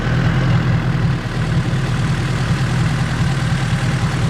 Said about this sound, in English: Now the idle's down nice and low, and motor's much quieter.